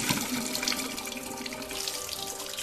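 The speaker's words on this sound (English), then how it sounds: "so when I turn on the hot tap," Hot water tap in a solar-heated Australian home runs steadily, a continuous close splashing rush into a sink with no voices over it.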